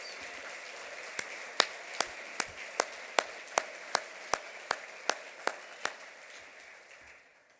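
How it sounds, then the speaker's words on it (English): Applause for nonprofit honorees at an awards dinner: a steady wash of clapping from a crowd, with a series of sharper, evenly spaced claps standing out at about one per second before the sound fades away. "please give all of our honorees, our nonprofit honorees, a big, big, big round of applause"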